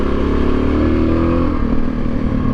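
Motorcycle engine with an aftermarket gravity-fed tank revving off idle, a loud, close, steady rumble with a slight rise in pitch and no sputtering.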